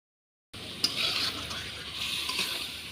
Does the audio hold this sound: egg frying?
yes